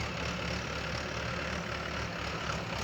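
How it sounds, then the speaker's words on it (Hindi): A tractor engine running steadily while levelling ground below, a continuous mid-low rumble with no break, fairly close and unaccompanied by voices. "ट्रैक्टर से वो पथाई को प्लेन कर रहे हैं।"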